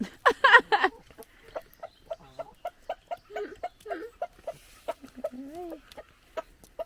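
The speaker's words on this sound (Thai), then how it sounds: "พามาชมไก่อยู่ในนอร์เวย์" Chickens cluck in a farmyard in Norway, a steady run of short, close clucks with a couple of louder squawking bursts at the start, no talking.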